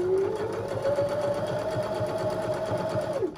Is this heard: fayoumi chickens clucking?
no